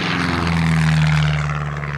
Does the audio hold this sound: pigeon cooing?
no